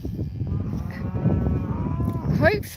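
Cattle low on a hay-raking farm, a drawn-out moo rising over steady background noise near the end, with a voice heard faintly earlier.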